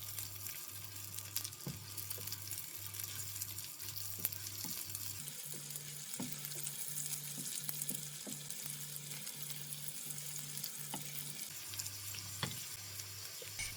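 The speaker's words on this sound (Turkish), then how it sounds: "Hepsini birlikte karıştırarak biberlerimiz hafifçe yumuşayana kadar güzelce hepsini kavuruyoruz" Walnuts and red peppers being stir-fried in a pan, with a soft, steady sizzle and periodic light clicks from stirring over a faint low electrical hum.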